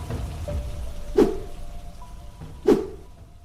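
Rain in an animated story scene on a rainy afternoon as two children walk along a road: a soft steady patter, broken by two sharper splashing drips about a second and a half apart.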